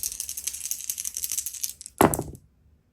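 A pair of dice rolled in a Dungeon Saga tabletop board game clatter briefly on the table and come to rest with a sharp knock. Busy rattling background fills the moments before the roll.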